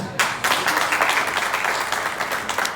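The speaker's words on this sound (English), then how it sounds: "I think we all deserve a lot of applause" Audience applause at an annual general meeting, a dense crowd of hands clapping steadily and fairly loudly for a few seconds.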